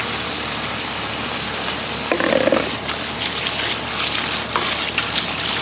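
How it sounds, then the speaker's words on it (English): Running water gushes steadily as freshly harvested radish microgreens are rinsed outdoors, a continuous close wash with no talking. "So I'm just going to rinse this."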